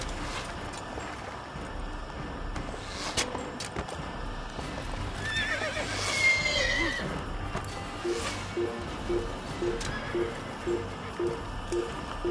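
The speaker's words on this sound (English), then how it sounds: "Ah, tem outro cavalo ali." In the video game Assassin's Creed, a horse whinnies loudly near the middle while steady clip-clop hoofbeats trot along underneath, set against low game ambience.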